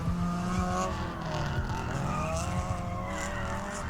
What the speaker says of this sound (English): All we're gonna do is get car sounds